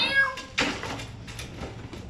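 A cat meows once, a clear close meow followed by faint rustling and a soft knock-like sound in a garage setting.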